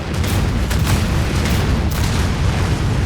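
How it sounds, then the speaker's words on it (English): Nuclear missile launch and explosion in the strategy game Anno 2205, a loud continuous rumbling roar with dense low booms sustained throughout. "Launching. Nuclear missile."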